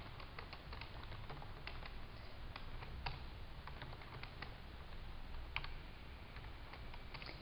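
Steady clicking keystrokes on a computer keyboard as code is typed, close and continuous with scattered sharper key taps over a low background hum.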